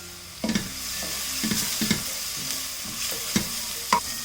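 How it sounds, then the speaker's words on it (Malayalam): Sliced onion sautéing with crushed ginger, garlic and green chili in a pan, a quiet steady sizzle punctuated by repeated scraping and clinking strokes of a spoon, with no voices. "സവാള വഴണ്ട് വരുമ്പോഴേക്ക് ഞാനിവിടെ ഇഞ്ചി വെളുത്തുള്ളി പച്ചമുളക് ചതച്ചത് ഇട്ട് കൊടുക്കാണ്. ഇത് നമുക്ക് വഴറ്റിയെടുക്കാം."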